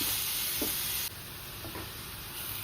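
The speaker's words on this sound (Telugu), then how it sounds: "మంచిగా పచ్చివాసన పోయే వరకు దీన్ని బాగా ఫ్రై చేసుకోవాలన్నమాట" Pumpkin halwa frying in a pan, a steady close sizzle with a few soft scraping strokes of the spoon, alone without voices.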